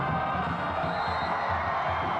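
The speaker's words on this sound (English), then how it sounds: "this crowd saluting the effort of their Holy Cross Crusaders" A football crowd at a Holy Cross home game cheers and roars after a late Crusaders touchdown, a loud sustained wall of voices with whoops rising above it.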